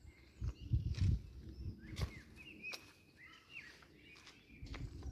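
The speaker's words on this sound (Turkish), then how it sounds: "Öten kuşlar kuşlar var." Birds chirp and whistle outdoors on a hilltop on Büyükada island, with short calls scattered through the scene. They sound light and fairly distant over soft footsteps and rustling ground noise.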